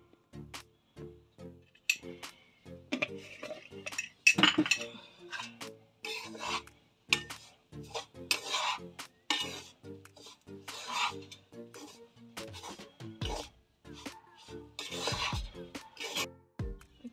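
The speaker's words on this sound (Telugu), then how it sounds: "టేస్ట్కి సరిపడా సాల్ట్ అయితే యాడ్ చేసేసుకొని మనం ఒకసారి అయితే మిక్స్ చేసేసుకోవాలి" Upma rava and ragi flour with salt are stirred in a pan, producing repeated dry rasping scrapes and occasional metallic clinks of a spoon against the pan, close and fairly quiet, in short irregular strokes.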